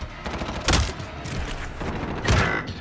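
Gunfire from a video game shootout, two sharp bursts of shots standing out over quieter background game noise.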